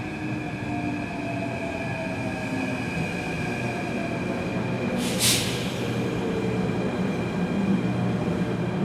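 An Athens electric metro train rolls along the line to Piraeus, a steady rumbling drone with high wheel whine and a brief sharp hiss burst partway through, continuous and fairly close.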